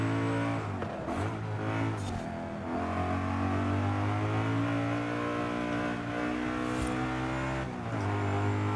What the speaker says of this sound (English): this engine needs you to keep it really high up in the revs